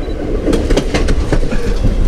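A train rolls through the Hoosac Tunnel in Massachusetts with a loud, continuous roar, echoing rumble and rhythmic clickety-clack of the wheels on the rails, heard from close by.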